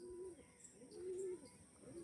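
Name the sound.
pigeon cooing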